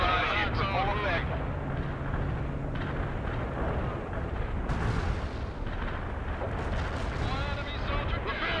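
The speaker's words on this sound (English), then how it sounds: "Artillery barrage in for full effect." An artillery barrage in the game World in Conflict: continuous heavy rumbling explosions and distant booms rolling together under radio-style voices talking.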